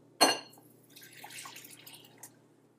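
Water poured into yeast to start a honey whole wheat bread dough, beginning with a sharp splash and followed by soft, uneven trickling and dripping close by, with no talk.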